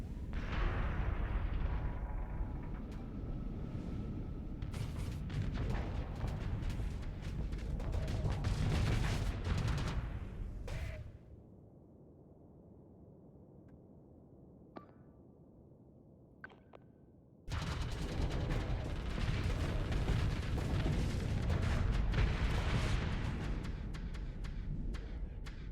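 Ship weapons in a Starsector space battle pound a friendly vessel with dense, rumbling volleys of fire, broken by a quieter stretch of scattered hits before the heavy barrage resumes.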